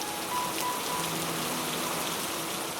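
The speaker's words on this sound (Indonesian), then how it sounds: "Hujan menderas lagi." Heavy rain pours steadily and close by, a dense continuous hiss of drops striking surfaces with no other sounds standing out.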